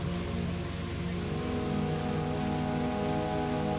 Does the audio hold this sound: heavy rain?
yes